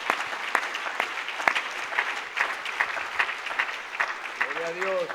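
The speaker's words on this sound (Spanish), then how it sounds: "Un aplauso para Jesucristo." Church congregation applauding during a Spanish-language sermon, steady sustained clapping from a crowd with a preacher's voice speaking over it throughout.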